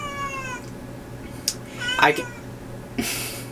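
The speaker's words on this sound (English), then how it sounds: "being interrupted by a cat now" A house cat meows several times, a fairly close drawn-out cry followed by shorter calls, with a person talking quietly in the background.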